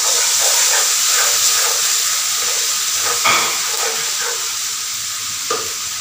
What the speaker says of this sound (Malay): put about 2 soup spoons of oil and fry the ginger garlic paste.